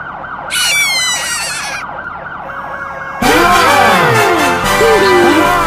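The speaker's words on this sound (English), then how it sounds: "Police car! Touch the dark bots to catch them!" A cartoon police car siren in a kids' vehicle game wails in a repeating up-and-down pattern beside a brief bright jingle, then switches to a louder, fuller siren with sweeping tones, up close and with no talking.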